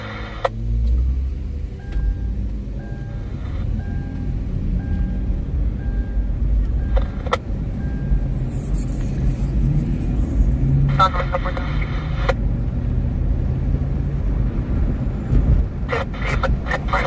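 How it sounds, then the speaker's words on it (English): A car driving along a highway while making a funny noise, a continuous low road rumble with scattered clicks and rattles, and people talk inside the cabin. "What is that funny noise this car is making?"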